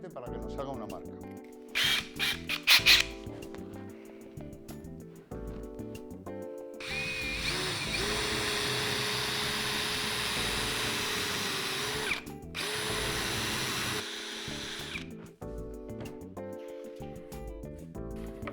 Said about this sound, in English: We are going to use a fine bit only to make a mark.